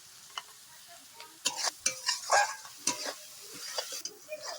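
Spice paste with a little sugar is stir-fried in a pan while making green banana kofta, giving irregular scraping and stirring strokes over a faint sizzle, some strokes close and sharp, others softer, with no talking.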